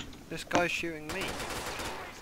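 Gunfire in a police roleplay video game, a quick burst of shots with sharp cracks, followed by a voice talking close up.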